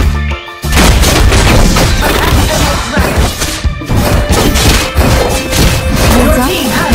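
Loud crashing booms and impacts as a turret is destroyed in the mobile battle game Legend of Ace, dense layered explosions with game music and an announcer voice mixed in.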